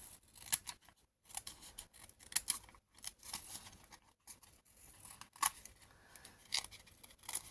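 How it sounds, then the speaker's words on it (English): Scissors snipping along a fabric edge on a decorated side pocket, a steady run of crisp close cuts with brief pauses between, no voices. "take your scissors and trim off"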